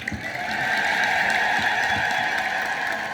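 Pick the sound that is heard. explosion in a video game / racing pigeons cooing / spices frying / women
women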